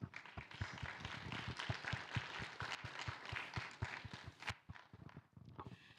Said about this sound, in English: May we please give a round of applause for Charm Brown